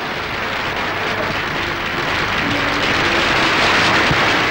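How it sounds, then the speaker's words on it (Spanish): A large crowd lining the streets of Lérida cheers and applauds Franco's passing, a steady, dense wash of clapping and distant voices without pause. "entusiasmo en vítores y aplausos"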